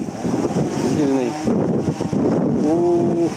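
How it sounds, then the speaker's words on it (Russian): Strong wind buffets the microphone in a seaside park in Yalta, a constant low roar with a voice speaking through it. "Ветер, ветер."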